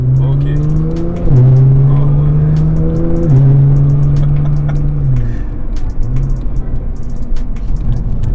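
Nissan GT-R R35 fitted with an optional Akrapovič exhaust, idling with a deep rumble then blipped into a couple of stepped revs that settle back down, loud and close, with people talking nearby.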